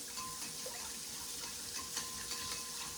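Running tap water splashes steadily as hands are washed at a kitchen sink while preparing a poor man's steak recipe, a continuous close wash with small irregular splatters and no talking.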